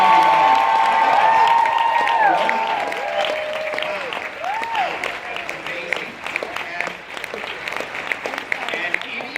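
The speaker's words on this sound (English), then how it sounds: "Let's give them a huge applause." Conference audience bursts into loud applause and cheering, dense clapping with whoops at first, then thinning to scattered claps and crowd noise as it fades.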